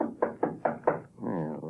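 Radio drama sound effect from a 1937 episode of The Shadow: five firm, evenly spaced knocks on a back door, fairly close and loud, followed by a brief voice.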